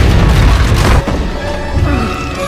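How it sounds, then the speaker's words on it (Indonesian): A bomb explodes in an Indiana Jones film scene, a loud deep boom with heavy crashing rumble that dies into a lingering low roar and debris noise. "bom itu langsung meledak hingga menghabisi para tentara Nazi"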